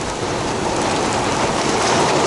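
A passing rain storm near Myrtle Beach pours down in a dense, loud, unbroken wash of rain noise, close and steady with no voices.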